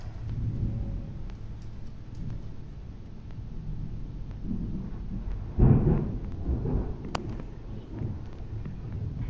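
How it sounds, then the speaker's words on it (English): Thunder from a sudden thunderstorm rumbling low and distant under steady background noise, with one sharper, louder crack near the middle before it fades back into a soft rolling murmur. "it sounds like you got a big storm"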